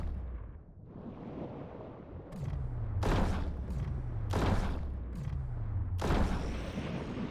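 Repeated bursts of gunfire aimed at a saw shark in the underwater game Dave the Diver, several sharp volleys cutting in loudly every second or so, each followed by a low rumbling decay over a steady game background.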